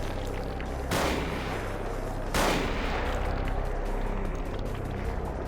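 Gunfire in the video game Vampire: The Masquerade – Bloodlines, two sharp loud shots a second or so apart over a constant low background rumble.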